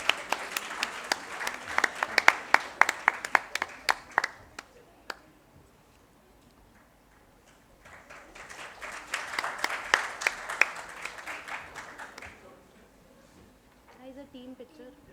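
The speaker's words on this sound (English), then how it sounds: "Can we please have a big round of applause?" An audience at a college marketing conclave at IILM Lodhi Road breaks into a burst of clapping that fades to quiet, then swells into a second round of applause before dying away.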